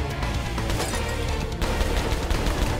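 Rapid bursts of gunfire in the game Viktor, dense and continuous throughout, loud and close with sharp crashing cracks layered over each other, no talking.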